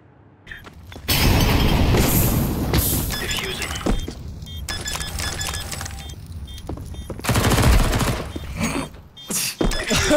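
AK rifle fire in a video game comes in loud, dense bursts with sharp cracks and shattering crashes, broken by brief pauses.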